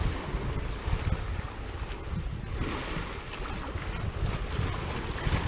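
A Nova 28 sailboat under way in a solo passage, with a steady rush of wind buffeting the microphone over the wash of water along the hull, continuous and fairly loud.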